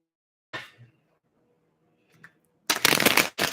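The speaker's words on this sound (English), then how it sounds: "You're saying 2 more shuffles." Tarot cards being shuffled at close range, a short riffle, a faint flick later, then a longer dense burst of rapid papery slapping near the end, with quiet gaps between.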